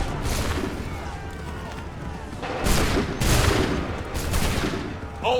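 Musket volley in Assassin's Creed III, several crackling bursts of massed gunfire that rise and fall across the clip, with shouted voices mixed in.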